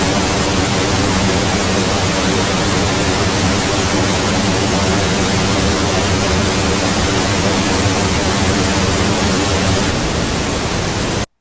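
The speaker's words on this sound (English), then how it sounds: "So pink noise, and then we're going to add the chorus to it" Loud pink noise test signal with a chorus effect applied, a continuous dense hiss that holds evenly for about eleven seconds before cutting off sharply.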